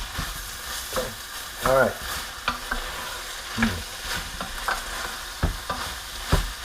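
Tomato paste frying in a pot for chili, with a spoon stirring and scraping in a few distinct bursts over a soft steady sizzle, close up; a voice speaks briefly.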